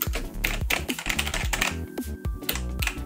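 Keys are pressed one after another on a neo-retro mechanical keyboard with LED backlighting, giving close, crisp clacks at an uneven typing pace, heard alone without talking.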